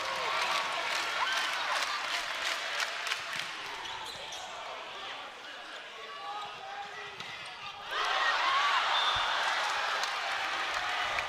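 Arena crowd at a UCLA vs UC San Diego men's volleyball match roars and cheers steadily throughout, swelling louder near the end, with ball bounces and an announcer's voice mixed in.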